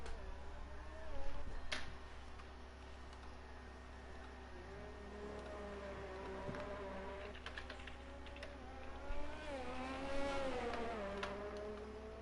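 An F1 race car engine in a sim racing game whines at a moderate distance on a hot lap at the Australian Grand Prix, its pitch rising and falling through gear changes, with no voices.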